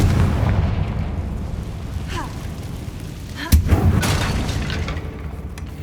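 A Confringo fire spell from Hogwarts Legacy bursts with a single sharp, loud blast midway, rising out of a steady rumbling bed of game ambience and music, with a smaller follow-up crackle just after.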